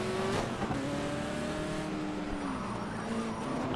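A race car in the Project CARS video game spins its wheels under throttle, the engine whining in sliding, rising and falling tones with a gritty tyre scrub underneath.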